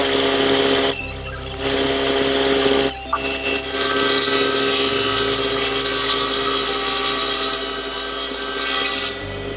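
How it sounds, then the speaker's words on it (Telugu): Wood cutting machine in a teak furniture workshop, whirring loudly and steadily with grinding, rasping bursts as material feeds through. "ఇది మా కటింగ్ మిషన్ అండి"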